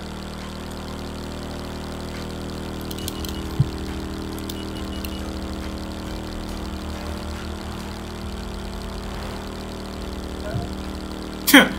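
A motorcycle engine from The Crew 2 racing game hums steadily at a low, even pitch, cruising with little change and a few faint clicks, while a player talks quietly in places.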